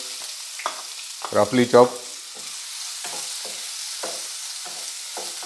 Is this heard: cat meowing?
no